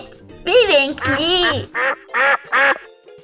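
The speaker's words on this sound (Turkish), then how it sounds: "Bu da bir ördek." Several nasal duck quacks in a row, a couple of long drawn-out calls followed by three short, evenly spaced quacks, loud and close.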